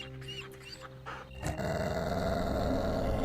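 A dog growls in an animated Dragon Ball horror series, low rumbling snarls that swell into a loud sustained roar-like growl, close and continuous, with no speech.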